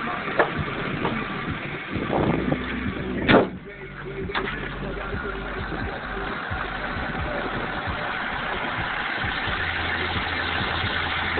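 A car engine idling with a steady low rumble, with a louder knock and rustle early on before it settles into an even hum, no clear talk over it.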